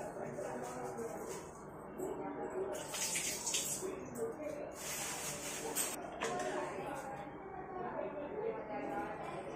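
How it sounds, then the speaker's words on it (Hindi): Running tap water splashes steadily over paneer being rinsed in a kitchen before cooking, a soft continuous wash with brief louder bursts of splashing. "तो इसको एक बार धो लेते हैं, बिना धोए हम नहीं बनाते हैं।"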